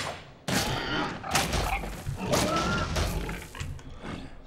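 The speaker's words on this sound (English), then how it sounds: "Now I'm going to start combat with this one and drop some bombs." Bombs dropping in video game combat, a burst of loud booming impacts and explosive thuds that begins abruptly and repeats several times over a few seconds, close and heavy.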